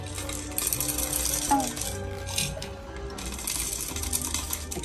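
About 15 grams of coffee beans pour into a Soulhand manual hand-crank grinder, giving a close, steady rattling patter of hard beans against metal that runs continuously with small bursts.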